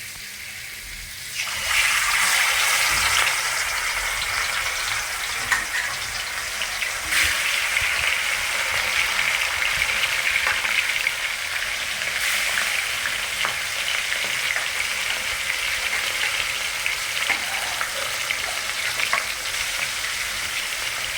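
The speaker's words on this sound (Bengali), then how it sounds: "তেলটা আমার ভালো করে গরম হয়ে গেছে এবার আস্তে আস্তে মাছগুলো দিয়ে দেবো" Scaleless fish sizzles loudly in hot oil, a dense steady crackle that jumps up once the fish goes in after a quieter start, with occasional spitting pops.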